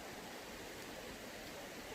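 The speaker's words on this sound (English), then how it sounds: "I just love the sound of flowing water." River water flowing through Ecclesall Woods in Sheffield, a steady broadband rushing and gurgling that stays constant and fairly close, with no voices.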